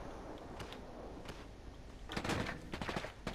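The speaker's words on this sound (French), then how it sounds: "Ok, je me fais tirer dessus." Gunfire in a competitive battle-royale video game, quiet at first then a dense burst of rapid shots over the last second and a half, with faint earlier pops.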